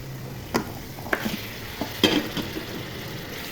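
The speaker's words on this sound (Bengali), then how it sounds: "মশলা ভাজা হয়ে গেছে, এখন মাংসগুলো ঢেলে দিব।" Marinated beef tipped into hot fried spices for a beef bhuna crackles in the pan. A steady frying hiss carries a few sharp clatters and stirring knocks, with no talking.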